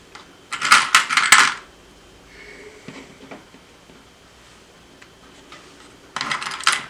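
Two quick clusters of sharp, hard clicks and snaps, one early and one at the end, with quiet handling noise in between, as sewing clips are clipped onto clutch-bag fabric.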